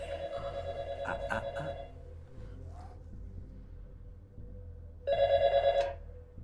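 Telephone bell ringing in two bursts, a rapid trilling ring for about two seconds, a short pause, then another ring of about a second, fairly loud over a low rumble with no voices.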